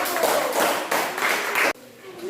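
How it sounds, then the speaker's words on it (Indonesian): A class of students applauds a group, giving a dense burst of clapping for under two seconds that stops abruptly, leaving a quiet room. "Beri tepuk tangan untuk kelompok 1."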